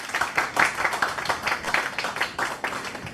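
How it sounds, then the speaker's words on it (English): A small forum audience claps for the moderator, a brief patter of individual hands with an uneven rhythm at close range. "Can we have a round of applause for her?"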